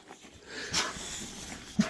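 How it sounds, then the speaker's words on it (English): A female dog barks at a pickup truck parked in a front driveway, two sharp bursts standing out, one near the start and a louder one near the end, over quiet background noise. "She's barking at my truck."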